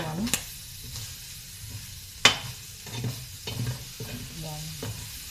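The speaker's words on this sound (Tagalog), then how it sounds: "haluin natin ito" Chicken liver adobo sizzling in a pan while being stirred, with a few sharp scrapes and clanks of the utensil over a steady frying hiss, close by.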